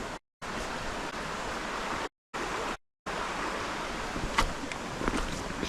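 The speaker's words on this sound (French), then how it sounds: "De voir cette rivière magnifique." A flowing river gives a steady broadband rush close by, broken by a few short silent gaps, with no talking.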